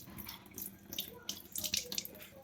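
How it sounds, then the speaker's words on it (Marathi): Water drained from soaked urad dal, a short splashy pour and trickle close by with gurgling bursts strongest near the end. "डाळीतलं पाणी काढून घेऊया आपण."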